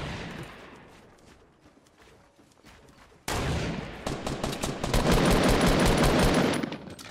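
Fortnite match with nonstop grenade launcher fire: a quieter stretch of distant gunfire, then an abrupt loud run of rapid overlapping blasts and bursts that stays dense to the end.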